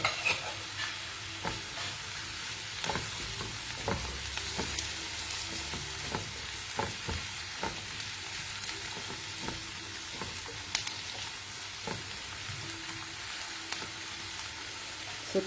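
Tomato and onion fry in a pan, a steady close sizzle broken by repeated scraping stir strokes, loud and continuous with no voices.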